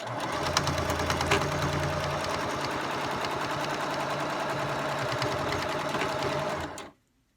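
A sewing machine stitches catnip pillows in one steady, loud, rapid run of close mechanical chatter for about seven seconds, then stops abruptly into silence.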